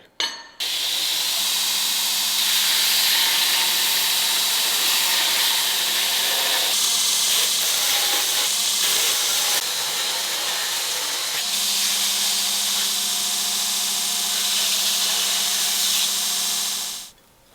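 Forge-welded steel inlay, made from powder, is ground on a belt sander in a continuous loud abrasive whine lasting about fifteen seconds, with a brief change in pressure midway before it stops.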